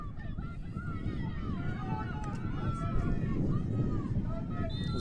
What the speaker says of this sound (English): As the wind picks up, you can possibly hear it.